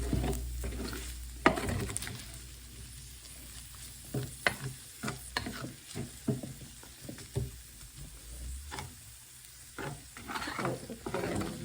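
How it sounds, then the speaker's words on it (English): Onions sizzle quietly in a frying pan, with close, irregular scrapes and clacks as a utensil stirs them. "Now while the onions have been cooking"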